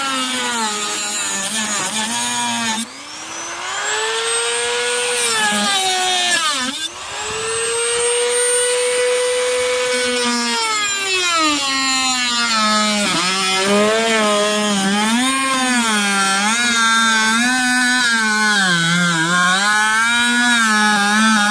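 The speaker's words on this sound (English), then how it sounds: "And we are going to cut that with our Dremel." Dremel rotary tool cutting through Jeep fender trim, a loud continuous high-pitched whine that dips briefly twice as the bit bites and then rises, warbling steadily for over twenty seconds with no talk.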